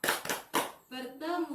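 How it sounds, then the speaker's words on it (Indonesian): A group claps out a quick rhythm of three sharp bursts for a P2K2 clap chant at a community training session, then voices chant together in unison. "Sekali lagi ya, tepuk P2K2."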